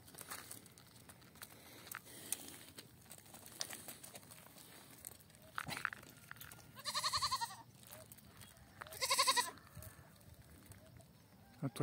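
Backland goats on a farm in the dry northeast Brazilian sertão bleat in two loud, wavering calls, with faint rustling and crinkling of vegetation between them and a distant murmur of talk.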